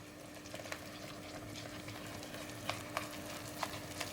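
Flour is stirred into a pan of melted butter, sugar and water, giving a faint bubbling hiss with a few light clicks and taps of the utensil.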